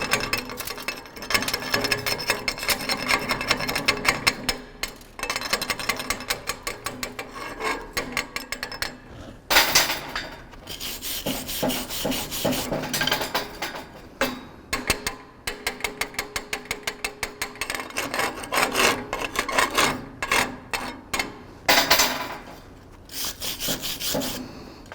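Welding slag being chipped and brushed off a first-pass bead on a 6 mm plate after horizontal-position shielded metal arc butt welding, heard as rhythmic scraping and rasping strokes in bursts, close and moderately loud, with no talk.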